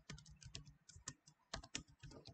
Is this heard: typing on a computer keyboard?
yes